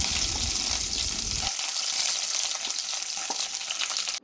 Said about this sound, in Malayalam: ഇനി നമുക്ക് അതിലേക്ക് നേരത്തെ അരിഞ്ഞു വെച്ച് തേങ്ങാക്കൊത്ത് കൂടി ഇട്ട് കൊടുക്കാം